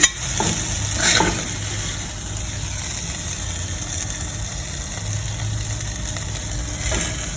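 Stir-fried jute leaves being scooped out of a hot pan, a constant sizzle under a few spatula scrapes, a louder scrape at the start and again near the end, no voices.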